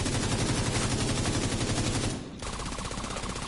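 Continuous rapid gunfire from a long-range weapon in the video game The Division 2. Dense, loud automatic bursts run without a break, dip briefly, then resume, with no talking.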